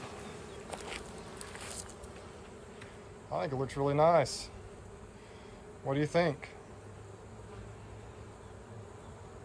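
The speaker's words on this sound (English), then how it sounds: "Bees are already starting to go in and out of the entrance there." A steady hum of many honey bees buzzing close by at a hive entrance, while a person speaks briefly twice over the drone.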